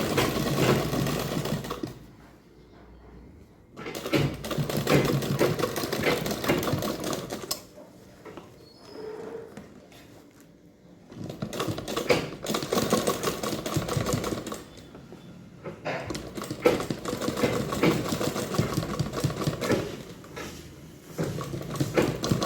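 A sewing machine stitches a bag in several long whirring runs, steady and close, separated by short quiet pauses.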